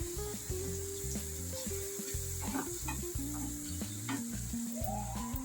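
Coriander powder, turmeric and cumin powder frying in oil for a brinjal and green chilli dish, a soft close sizzle under repeated rhythmic stirring and scraping, fairly quiet.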